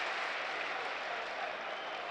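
Stadium crowd at a Premier League football match between West Ham and Burnley applauding, a broad, even roar of clapping heard from a distance, steady and unbroken.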